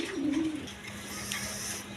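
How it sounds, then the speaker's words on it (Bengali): A pair of quality domestic pigeons coos close by, with one low, rolling call near the start and then a quieter hum of background noise. "এখানে এক পেয়ার কোয়ালিটি সম্পন্ন কবুতর আছে"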